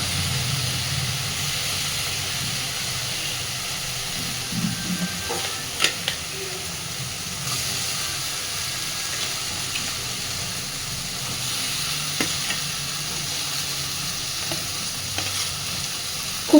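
Steady sizzling and crackling of aubergine pieces frying in oil with spiced masala, with occasional scrapes and knocks of stirring, continuous and close.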